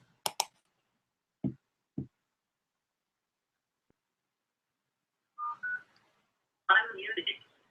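Telephone dialing for a phone call: a few sparse, short keypad tones and clicks spread across several seconds, quiet and separated by silence, ending in a brief burst of louder tones.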